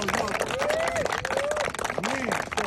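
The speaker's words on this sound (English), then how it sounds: "So clap it up for you guys, man." A crowd claps loudly and steadily for high school football players at a Friday night awards gathering in Palm Springs, with whoops and shouted voices riding over the dense, continuous clatter.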